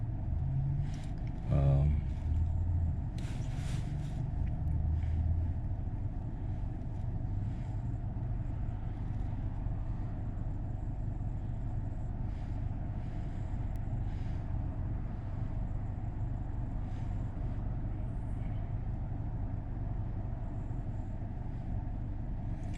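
A Honda Accord drives along a road, a steady low engine and road rumble with tire noise filling the cabin throughout, with a brief louder knock or thump near the start.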